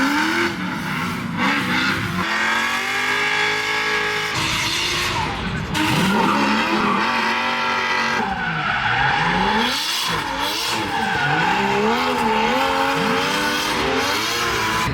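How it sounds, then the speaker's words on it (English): Two drift cars performing at Carfest, engines revving hard with rising and falling pitch sweeps and tyre squeal throughout, loud and continuous with no talk. "Time for these 2 crazy drift cars to go out."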